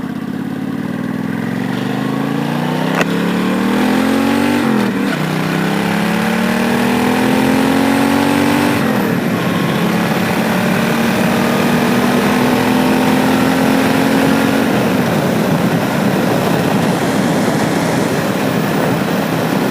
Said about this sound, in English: The Jardine pipes have a good rumble to them.